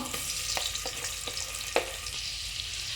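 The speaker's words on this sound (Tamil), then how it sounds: "இப்போ வெங்காயத்தை சேர்த்துட்டோம் சேர்த்து நல்லா ஓரளவுக்கு கோல்டன் ப்ரௌனாக வர வரைக்கும் வெங்காயத்தை வதக்கிக்கலாம்" Sliced onions fry in a pan with cashews, giving a continuous hissing sizzle broken by a few stirring scrapes and clicks, one sharper knock in the middle, and no voices.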